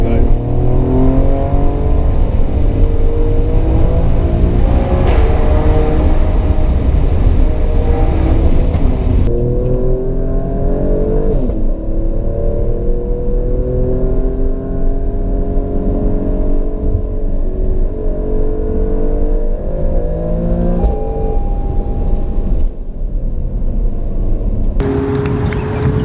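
An Alfa Romeo Stelvio Quadrifoglio's powerful engine revs hard and loud, rising and falling in pitch through repeated throttle blips, with a deep rumbling idle between pulls.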